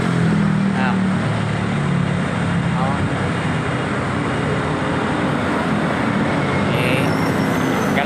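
Dense road traffic rumbles at Quezon City Circle, a continuous loud wash of passing cars and buses with engine drone and hiss, and voices chatter faintly in the mix.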